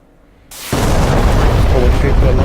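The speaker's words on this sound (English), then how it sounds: "My first missile's away." A missile launched from a Ka-50 attack helicopter in DCS World: a quiet cabin hum, then a sudden whoosh that quickly swells into a loud, sustained roaring rush that continues to the end.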